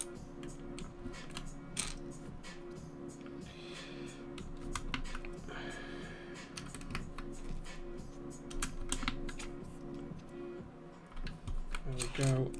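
UK ISO keycaps are pressed onto a KBD67 mechanical keyboard, giving scattered sharp plastic clicks and clacks at an irregular pace, with a voice talking at times between them.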